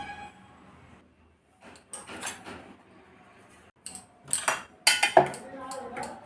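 Homemade ground spice mix, cumin and coriander among the spices, being poured and tipped into a storage container in a home kitchen, with scattered light clinks and scrapes of utensils and containers, louder bursts near the end.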